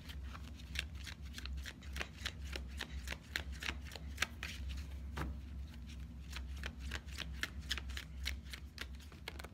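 Tarot cards are shuffled and drawn, crisp riffling and flicking snaps repeating in quick irregular bursts, close and quiet with no talking.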